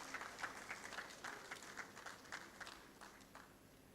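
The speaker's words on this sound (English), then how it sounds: "A round of applause for the Director General as he receives his books." A handful of people at a book launch clap for the Director General as he receives his books: sparse, fairly even claps, faint and somewhat distant, thinning out toward the end.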